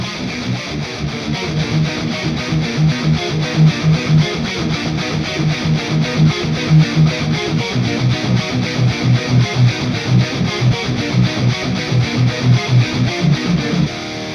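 A harmonic distorted electric guitar part for a metal-style symphonic arrangement plays a continuous rhythmic, rapidly picked pattern, loud and dense, with effects-laden tone and no voices throughout.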